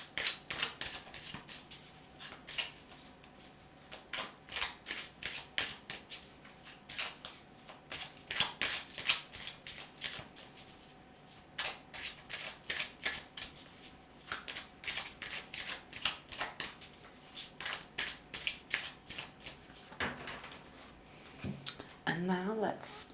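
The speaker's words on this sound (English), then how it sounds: "So let's shuffle this deck several times." Tarot cards are riffled and shuffled repeatedly in quick rhythmic bursts, close and crisp, with short pauses between rounds.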